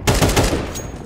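Gunfire in the Counter-Strike video game: a quick, loud burst of several sharp shots in rapid succession, with a ringing tail that fades over a second.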